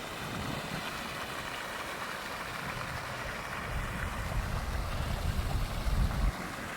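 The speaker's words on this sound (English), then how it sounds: "I could just stand here for the rest of the day and listen to the water." Steady broadband rushing of moving water, continuous and fairly close, swelling slightly louder toward the end with a low rumbling undertone.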